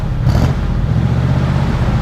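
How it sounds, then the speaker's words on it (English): A 1947 Ford pickup engine with a manual choke runs close by, with a steady low rumble and a brief rise in revs near the start. "I'm going to rev it up a little bit."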